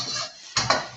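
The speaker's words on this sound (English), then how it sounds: "Put in the salt and sugar. Stir it around." A utensil clinks twice against a cooking pot while salt and sugar are stirred into greens, two sharp close metallic knocks after a soft scrape.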